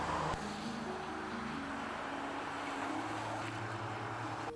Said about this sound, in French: Le 600V joue sa partition dans les graves, et son rauque est envoûtant.